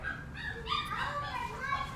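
A dog whimpering and yipping softly after giving birth to puppies, faint high whines drifting under steady background noise indoors.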